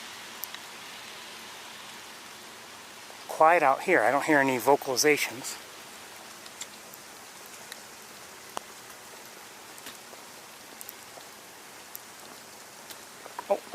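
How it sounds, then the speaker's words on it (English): Light rain falls steadily outdoors, a soft broadband hiss with scattered faint drop ticks; someone speaks briefly near the start, then the rain continues alone. "Rain is picking up again"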